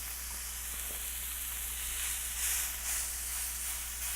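A ribeye steak sears in a cast iron pan, giving a soft, steady hiss that swells slightly midway, faint and continuous with no voices.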